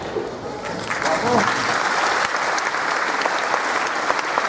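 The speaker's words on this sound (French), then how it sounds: "Elle mérite d'être applaudie." Festival audience applauding young folk dancers, steady crowd clapping after a brief voice at the start.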